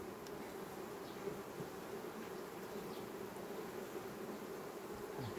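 Honey bees buzz in a dense, continuous drone at an open hive during colony consolidation, a steady close swarm hum with no voices.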